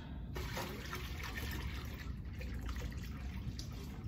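A bucket of water is poured into a tank, giving a steady gushing, splashing flow that runs unbroken from start to finish at moderate closeness.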